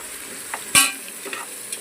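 Chicken biryani ingredients sizzle and fry in a pan while a child stirs them at home, a spoon scraping and knocking against the pan in sparse taps over a faint hiss.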